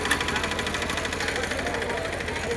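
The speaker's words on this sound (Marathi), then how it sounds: "तर हा ट्रॅक्टर आहे" A tractor engine idles at the Baramati agricultural exhibition, a steady low mechanical throb with an even pulsing rhythm that holds constant and fairly close for the whole moment.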